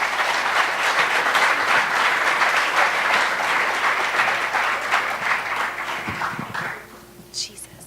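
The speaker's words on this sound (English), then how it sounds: "Please give her a round of applause." An audience at a typography awards ceremony gives a loud round of applause that holds steady for several seconds, then thins and fades out. A voice briefly sounds at the very end.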